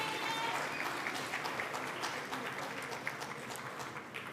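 Steady applause from an audience at a schools' elocution contest, quite faint and continuous throughout, with some crowd murmur underneath.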